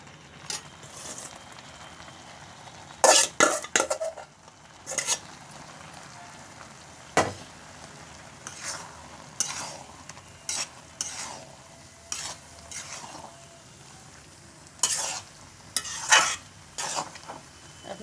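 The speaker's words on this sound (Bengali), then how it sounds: "গাজরটা ঢেলে দেবো।" Carrots for an egg and carrot halwa tip into a hot pan and get stirred, with a quiet background sizzle under irregular bursts of scraping and clattering spoon strokes, close by and without talk.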